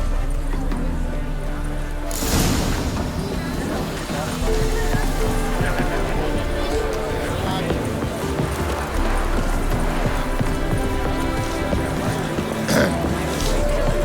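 Horses in The Witcher 3 video game whinny and snort while hooves clip-clop beneath continuous game ambience and music, with voices talking over it.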